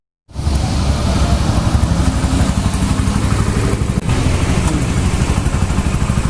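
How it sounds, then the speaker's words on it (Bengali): A motorcycle engine runs smoothly after a clutch pinion repair, a loud, close, steady idle with an even low throbbing pulse throughout, starting abruptly after a moment of silence. "তো এখন কিন্তু ইঞ্জিনের শব্দ একদম স্মুথ"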